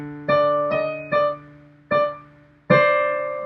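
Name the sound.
piano playing a line, hands together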